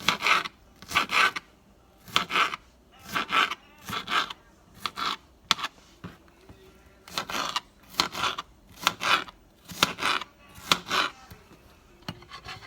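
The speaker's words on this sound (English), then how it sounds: "I'm just going to cut it up into pieces too." A knife cuts food into pieces on a board, with regular rasping chops in short bursts, about a dozen strokes in steady rhythm, close and fairly loud, with no voices.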